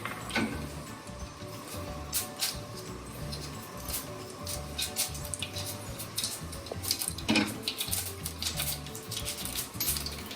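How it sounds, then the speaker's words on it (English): Mustard seeds spluttering in hot oil in a pan, a fairly quiet bed of irregular crackles and pops with a few sharper, louder snaps, steady throughout with no talking. "Once they start spluttering"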